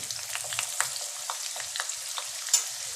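Chopped onion crackles in hot oil seasoned with cumin and hing for a rustic village-style jhunka, a steady close sizzle broken by light stirring taps and one sharper scrape near the end, with no talking.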